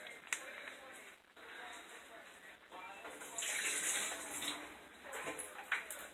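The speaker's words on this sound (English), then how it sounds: "I'm going to take the bowl out of here and dump some of the water out." Water pours and splashes as thick liquid is tipped out of a bowl into a sink, a faint, continuous gushing that swells midway, with soft background noise.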